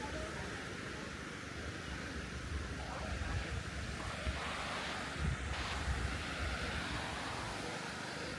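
Wind and surf roll steadily onto Ao Prao beach on Koh Kood, Thailand, with a constant broad rush of gusts buffeting the microphone and waves washing in, no clear voices.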